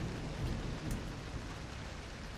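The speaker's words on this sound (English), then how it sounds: "Love the sound of the rain." Steady rain falling outdoors beside a city garden, a dense, continuous hiss of drops with a faint low rumble, heard alone at moderate distance.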